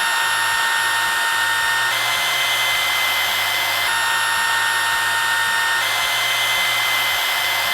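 Ryobi 18-Volt ONE+ brushless stick vacuum running on a Lithium Plus HP battery, a loud constant high-pitched motor whine with a low pulsing undertone and no talk.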